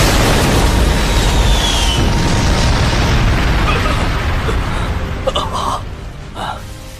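Loud, sustained roaring blast of a white flame spell explosion effect, a dense noisy rumble that holds steady for several seconds before fading, with faint voice-like sounds near the end.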